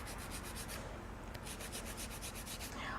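Acrylic nail sidewall being shaped with a hand file, a steady rhythmic rasping of quick back-and-forth strokes, close and continuous with no talking.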